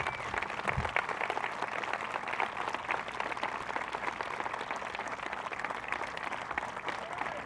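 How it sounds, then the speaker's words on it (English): Crowd applause for Vietnam-era veterans at a Wall That Heals memorial ceremony, a steady wash of many hands clapping through the whole stretch at moderate distance, with no voices over it. "So round of applause."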